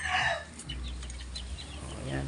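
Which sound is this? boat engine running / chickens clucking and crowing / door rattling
chickens clucking and crowing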